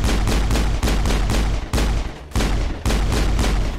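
Rapid, loud gunfire from a pistol in the Mass Effect video game, shots cracking in a dense repeating volley that runs the whole time with brief gaps.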